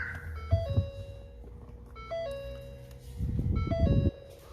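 A Ford Fusion Electric starts up inside the cabin with a series of short electronic chime tones in a few separate bursts, along with low rumbling handling noise, all fairly quiet and without speech.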